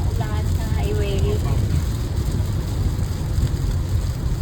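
Heavy rain drums steadily on a car driving along a highway, a loud continuous wash with road rumble beneath, and a brief voice near the start.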